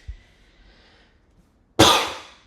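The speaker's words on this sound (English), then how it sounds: "That was just a cough." A single sharp human cough, loud and close, bursting out after a quiet pause and a small throat sound, with no speech.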